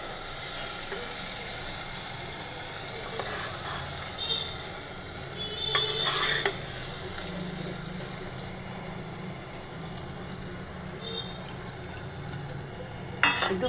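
Boiled moong dal added to khichuri and stirred, making a low steady sizzle and bubbling with a few soft scrapes and clinks of a ladle against the pot, heard fairly faint and without talking.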